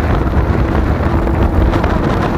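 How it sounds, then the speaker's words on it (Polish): Strong wind buffeting the microphone while cycling an e-bike on a long ride toward the sea, a loud, dense, continuous low roar with no voices. "Ale wiatr zaczyna się wzmagać"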